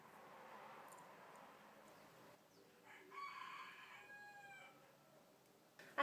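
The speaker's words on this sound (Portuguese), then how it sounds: "Tem um galo cantando?" A rooster crows in the background, its drawn-out call rising and holding for about two seconds, fairly faint and distant over a low room hiss.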